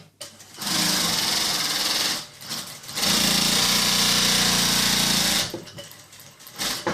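A Brother S7000 DD sewing machine stitches in two loud, steady bursts of rapid mechanical whirring with a short pause between them, then stops and gives a few softer clicks.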